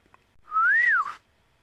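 A single clear whistled imitation of a bulbul's call, a smooth rising then falling tone lasting under a second, close and loud against near silence.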